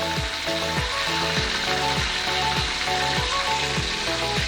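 Pork fries with red fermented bean curd in a pan, giving a loud, steady sizzle and bubbling up close, broken by regular scraping stirs, with no talk.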